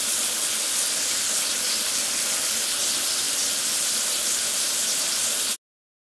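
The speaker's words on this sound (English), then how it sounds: "Now let's wash off the rest of the foam." Steady, loud hiss of a water spray jet rinsing foam off a machine in a cartoon vehicle video game, continuous for about five and a half seconds before cutting off abruptly to silence.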